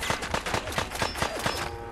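Rapid bursts of gunfire from Fallout 4's Far Harbor, a steady string of close, loud shots repeating several times a second with no voices over it.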